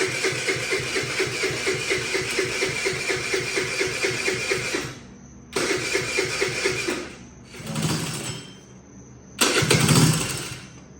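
A Bintelli 50cc scooter with a newly replaced carburetor cranks with a fast, rhythmic starter chatter for several seconds. Then comes a pause, followed by shorter cranking bursts and sputtering catches, close by and with no talking.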